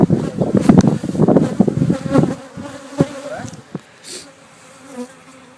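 Honeybees hum and buzz thickly around hives stacked four to a pallet at a Florida commercial pollination site, loud and dense at first, then thinning to scattered close passes of single bees over a quieter background.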